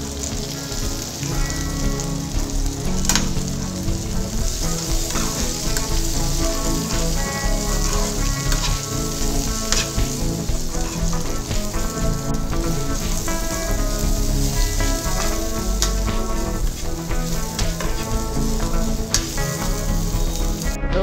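Green chillies and eggplant pieces sizzle steadily in a hot pan, a dense, continuous crackling hiss that stays loud and even throughout with no voices.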